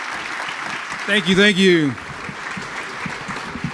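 Audience applause at a panel event swells briefly and fades, with a speaker's voice over it.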